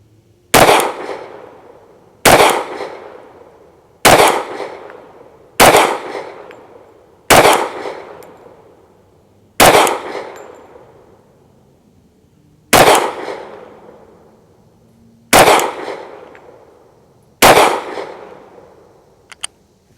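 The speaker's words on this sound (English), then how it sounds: "Glock 30." Nine loud, sharp pistol shots from a Glock 30 firing 230 grain full metal jacket .45 ACP rounds at a 15-yard range, spaced about two seconds apart, each with a ringing outdoor decay and no talk.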